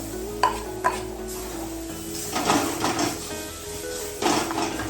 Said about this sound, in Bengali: দেখো তেল গরম হয়ে গেছে, আমি দিয়ে দিচ্ছি ডাল পেস্টটা।